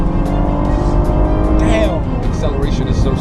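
A Cadillac ATS-V accelerates hard close by, its engine roaring loud and rising in pitch with a brief tire squeal, while a voice is heard over the engine noise.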